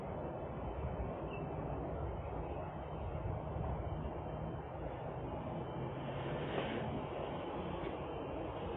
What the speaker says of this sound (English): You can hear the drone.